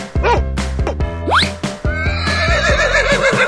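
A horse neighs in a long, shrill whinny that rises and then wavers down, close and loud, preceded by a few soft thuds and snorts.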